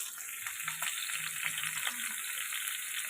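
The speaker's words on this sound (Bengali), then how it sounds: "আলুটা আমি হালকা লাল করে ভেজে নেব।" Potatoes fry in a pan for a vegetarian banana-flower curry, giving a steady, close sizzle with a few soft stirring clicks throughout and no voices.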